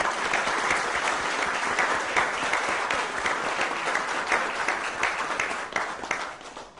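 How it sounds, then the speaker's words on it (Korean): Sustained applause from a university lecture audience welcoming a food company CEO to the stage, dense steady clapping filling the room for several seconds before thinning slightly at the end. "큰 박수로 환영해 주시길 바랄게요."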